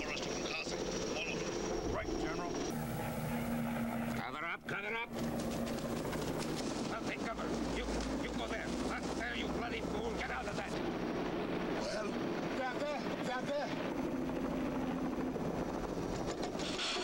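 A helicopter's rotor thumps and whines steadily close by, with people talking over the loud, continuous engine noise.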